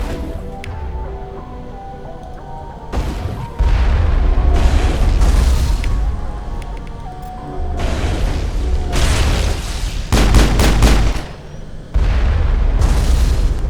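Enemy gunfire in the Mass Effect video game, a loud run of booming bursts and rapid shots coming in uneven clusters over a steady game backdrop, with no talking.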